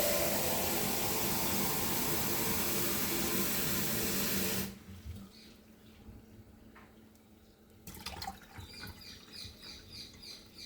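Water poured from a 4-liter container into a new water dispenser, a steady loud rushing pour that stops abruptly partway, followed by quieter dripping, trickling and handling noises.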